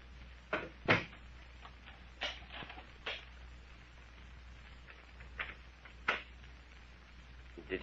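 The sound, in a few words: doors being closed and locked in radio drama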